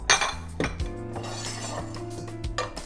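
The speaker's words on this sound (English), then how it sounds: "going to put all of this amazing, well-seasoned macaroni and cheese in our bowl, in our casserole bowl, to get it ready for the oven" Macaroni and cheese is spooned into a casserole dish, with close clinks and scrapes of utensils against cookware in a few distinct knocks over a short stretch, no voices.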